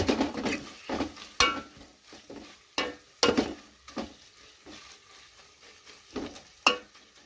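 A Telangana-style fish curry is stirred in a pan, giving repeated scraping and clinking strokes at an irregular rhythm over a faint sizzle, close and moderately loud, with no voices.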